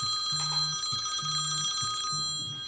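A telephone rings during a mayor's COVID-19 press briefing in St. Louis, three clear trilling rings with short pauses between them, fairly close and heard alone.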